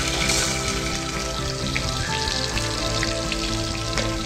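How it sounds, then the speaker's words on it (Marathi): Bay leaf and onion fry in oil inside a pressure cooker, giving a steady, fairly loud sizzle with no one speaking. "याला ऑलमोस्ट 10 ते 15 सेकंड फ्राय करायचं"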